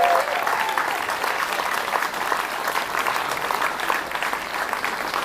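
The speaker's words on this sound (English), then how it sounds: "Big round of applause to the setting team." A crowd at the open finals of a national bouldering championship claps steadily and loudly, a dense, even wash of applause that continues without a break.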